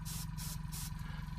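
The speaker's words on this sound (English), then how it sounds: "Like I said, it's not a very quiet compressor." A Harder and Steenbeck Infinity CR+ airbrush compressor runs steadily and close by, a loud, low mechanical hum with a fast pulsing rhythm, with periodic bursts of hissing air layered over it.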